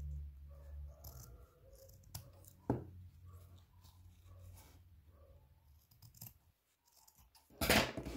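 Scissors snip through ribbon while a hair bow is trimmed to a rounded tip, giving a few close, crisp cuts and clicks with soft handling rustle between them and a sharp burst of snipping near the end.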